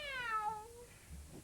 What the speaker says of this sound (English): Nutmeg, Meow.